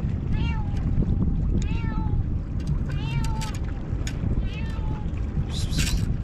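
Cat meowing repeatedly on a fishing boat off Oman, several drawn-out mews spaced a second or so apart over a constant loud engine and wind rumble.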